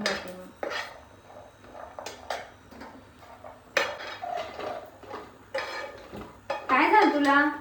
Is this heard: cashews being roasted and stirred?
yes